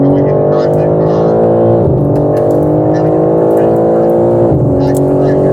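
A car accelerates hard on a race track, its loud engine climbing steadily in pitch and dropping briefly at two gear shifts before climbing again.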